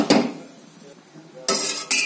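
A metal pot of milk with crushed turmeric is set down on a stovetop, giving a sharp clank at the start and two more loud metallic knocks near the end, close and alone.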